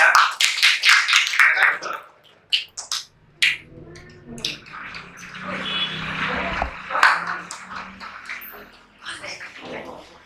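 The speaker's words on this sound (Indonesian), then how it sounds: "Beri aplaus anak-anak ya." Children in a classroom burst into brisk clapping and applause at the start, fading into scattered taps, murmurs and talk from the room.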